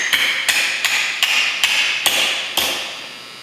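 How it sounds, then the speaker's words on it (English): Seven light, crisp taps from a brass hammer seat a part onto a governor, evenly spaced and close, each ringing briefly before the next. "just tap it lightly with a brass hammer"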